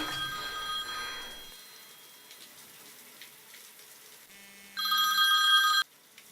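A telephone rings indoors in two separate bursts, a longer ring at the start and a louder, brighter one near the end, with quiet room tone between and no talking.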